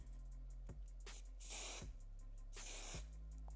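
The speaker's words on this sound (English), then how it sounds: "And then she puts a little hairspray on them." Hairspray sprayed onto the front bang pieces of curly hair, two quick faint hissing bursts from an aerosol can close by, separated by a short pause.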